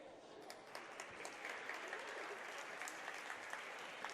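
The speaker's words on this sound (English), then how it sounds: "as she comes up to a round of applause" Crowd applause at a high school girls' basketball game as an injured player, Patterson, is helped off the floor. The clapping is quiet and steady from a gym audience, with faint voices underneath.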